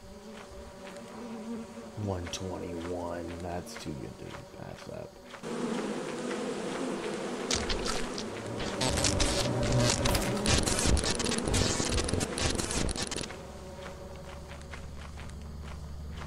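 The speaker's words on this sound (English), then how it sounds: "There's bees." Bees buzz in a video game, a dense droning swarm swelling loud in the middle amid footsteps and game effects, then thinning out, with brief speech at the start.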